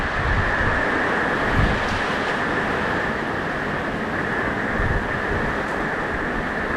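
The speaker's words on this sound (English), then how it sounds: "there are some wind gusts that have been happening probably 40 miles an hour" Strong hurricane wind gusting around 40 miles an hour roars and buffets the microphone continuously, with a dense hiss of rain underneath and occasional heavier gusts.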